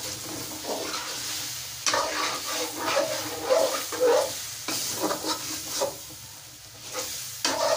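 A spoon stirs chicken karahi with added cream in a hot pan, giving steady sizzling and frying with irregular scraping strokes, close and fairly loud, with no talk.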